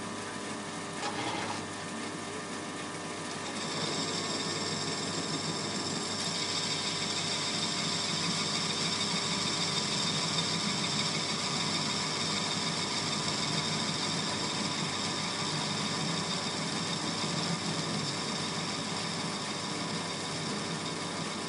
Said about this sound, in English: When I press the start button, facing should start with 400 RPM and 40 mm a minute feed rate.